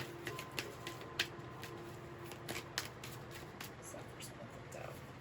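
Tarot cards are shuffled by hand, giving soft riffling and several crisp snaps and flicks as cards fly out, fairly quiet and close, with a voice speaking alongside.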